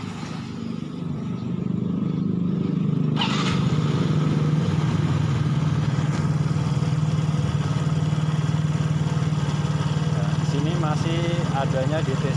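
A Yamaha X-Ride scooter with a stuttering fault and an idle speed control error, its engine running at high idle in a steady, even drone; a voice briefly talks over it near the end.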